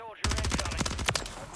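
Rapid automatic gunfire bursts loudly in the video game Modern Warfare 3, a dense run of sharp shots close and continuous after a brief quiet start.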